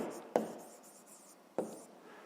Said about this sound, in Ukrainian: пишемо друга дія і записуємо